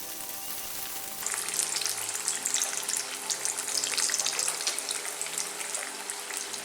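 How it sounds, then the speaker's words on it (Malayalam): Beef-filled samosas sizzle in hot oil after about a second of quiet, then a steady, loud bubbling crackle continues without pause, with no talking. "ഇതിലേക്ക് ഇപ്പം തയ്യാറാക്കി വെച്ചിരിക്കുന്ന സമൂസയുടെ ബീഫ് ഇട്ട് കൊടുക്കാം"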